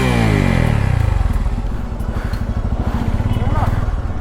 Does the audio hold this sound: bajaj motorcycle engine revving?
yes